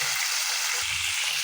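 Boal fish (wallago catfish) fries lightly in hot oil in a pan, giving a steady close sizzling hiss throughout with a few soft low spits and bubbling pops.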